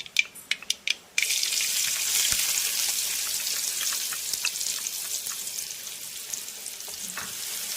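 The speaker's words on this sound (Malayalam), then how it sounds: "സവാള വഴണ്ട് വരുന്നതിന് നമുക്കൊന്ന് ഇളക്കി കൊടുക്കാം" Sliced onion sizzles in hot oil in a pan after mustard seeds pop, with a few sharp crackles at first before a loud steady frying hiss takes over.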